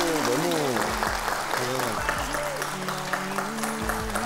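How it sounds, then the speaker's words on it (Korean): Studio audience applause on a Korean talk show, a steady wash of clapping running under a voice speaking loudly throughout. "박수 한 번만 주시죠"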